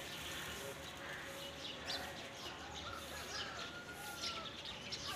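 Pigeons fly past a net by a rooftop loft, their wing flaps and faint chirps coming and going against steady outdoor background noise, with no clear speech.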